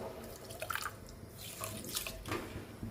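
Water pours into a pan holding milk, semolina and sugar, a close, quiet splashing and trickling stream lasting about three seconds, with no speech.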